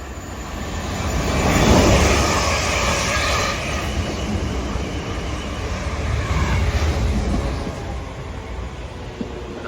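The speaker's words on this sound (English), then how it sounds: "Arriving now is the 12:15 South Western Railway service from Bournemouth to Winchester." South Western Railway trains arriving at and passing through Hinton Admiral station, including Class 444 and Class 450 units, roar as a broad, loud, rumbling rush that swells early and stays heavy throughout.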